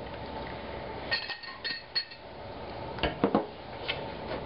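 Sugar stirred into dry gluten-free cornbread mix in a bowl, a few light clinks and scrapes of a spoon against the bowl, close and soft over a steady background hiss.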